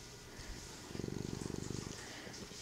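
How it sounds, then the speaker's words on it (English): A gray tabby cat purrs for about a second, a soft close rhythmic rumble of rapid pulses over a faint noisy background. "Because I'm a little purring machine."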